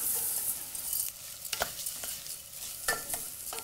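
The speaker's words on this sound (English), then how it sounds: "just tip in, oh, this is 225 grams of rice basmati" Basmati rice, 225 grams, tipped into a pan of sizzling spiced onions and stirred, giving a steady close sizzle with scraping stirs and a few sharper bursts, no voices.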